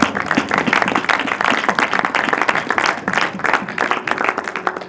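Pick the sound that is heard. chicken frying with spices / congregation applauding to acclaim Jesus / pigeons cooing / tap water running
congregation applauding to acclaim Jesus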